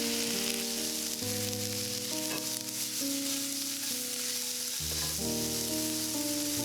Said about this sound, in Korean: 여기에 양파를 넣고 살짝 볶아주세요